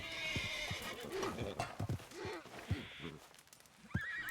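A horse in a Western video game whinnies repeatedly while its hooves clip-clop beneath, close and clear, with people talking over parts of it.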